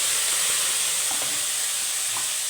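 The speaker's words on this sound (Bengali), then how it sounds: "টমেটোটা দিয়ে ভালো করে ভাজবো নাহলে কাঁচা টমেটো গন্ধ ছাড়বে" Tomato paste and ginger paste fry in hot oil for a cauliflower dish, giving a loud, steady, close sizzle that hisses without a break throughout, with no talking.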